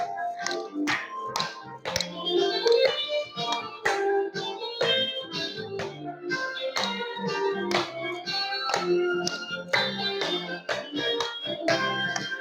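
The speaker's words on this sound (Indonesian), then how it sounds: "Tepuk tangan." Rhythmic hand clapping and light taps keep time with tuneful singing or music in a fifth-grade Christian religion class, steady and lively throughout.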